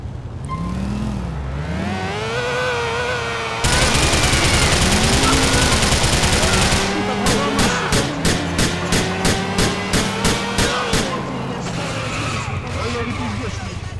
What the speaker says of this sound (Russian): У нас выстрелы на Крокет Авеню.